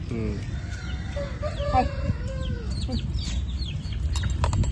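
Chickens cluck and squawk nearby in short, repeated calls over a rumbling background at a roadside wood-fire cooking spot, while people talk at the same time.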